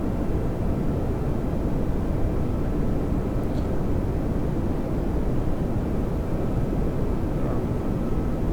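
Steady airliner engine drone in the cockpit of a simulated jet lining up with the runway on approach into Kilimanjaro in Microsoft Flight Simulator 2020, a continuous broadband roar with no breaks, moderately loud and alone.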